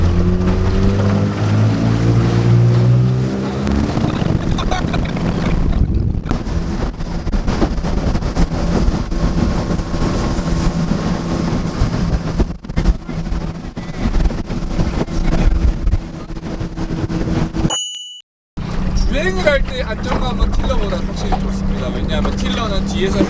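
A small aluminum boat with a tiller-steered outboard motor runs across open water, its engine droning steadily under heavy wind buffeting and splashing, with a brief dropout near the end.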